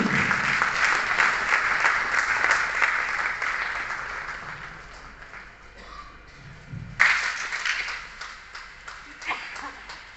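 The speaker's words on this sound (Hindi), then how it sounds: "जोरदार तालियां फिर से।" Applause at a retirement programme for a thermal power plant engineer, a crowd clapping steadily that fades out midway before a fresh burst of clapping starts up again, with some voices underneath.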